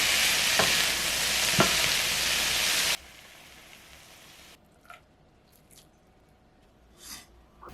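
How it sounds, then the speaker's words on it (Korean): Julienned zucchini with a couple of pinches of salt being stirred and sautéed in a frying pan: loud steady sizzling with a few utensil scrapes, then quieter, softer sizzling with occasional stirring sounds. "소금 2꼬집 넣어 섞으면서 애호박을 살짝 익히세요"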